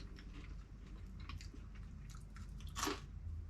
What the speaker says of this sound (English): We're down to the last 3 chips. Will they still be crunchy?